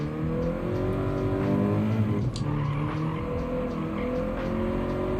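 Race car engine in Gran Turismo 7, a GR86 or BRZ at Trial Mountain, droning loudly and steadily down the main straight with a brief shift-like break partway through, tires scrubbing underneath.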